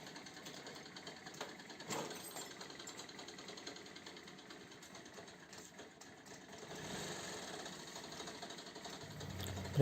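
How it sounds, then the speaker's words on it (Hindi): A Scooty Pep scooter engine, unused for months and with a faulty connecting rod, idling with a fast, even rattling knock, steady for several seconds before a louder burst at the end. "इसके इंजन से साउंड आ रहा है, मुझे लगता है इसका कनेक्टिंग रॉड है वो ख़राब हो चुका है"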